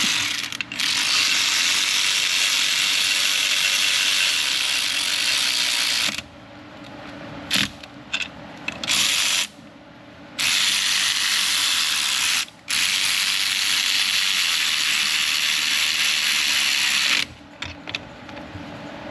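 A ratchet wrench tightening nuts onto studs to secure an assembly on a GM engine with Dexcool coolant, heard as loud, close, rapid clicking that runs in long stretches broken by short pauses.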